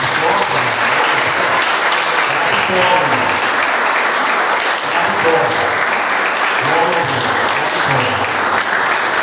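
Sustained congregational applause fills a church service, steady and dense throughout, with a few voices faintly audible beneath the clapping.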